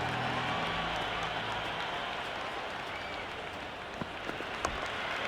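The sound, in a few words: cricket stadium crowd cheering, from video game Cricket 26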